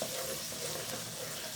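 Finely chopped tomatoes being stirred into cooking onions in a pan for a Punjabi-style creamy lobia curry, a soft continuous sizzle heard faintly and steadily with no talking.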